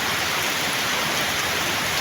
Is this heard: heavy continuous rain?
yes